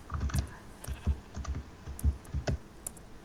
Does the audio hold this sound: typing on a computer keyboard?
yes